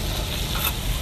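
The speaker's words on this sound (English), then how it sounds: "You're frying the mustard right now." Mustard fries alongside bacon on a hot REC TEC grill, giving a steady close sizzle and hiss throughout with no voices.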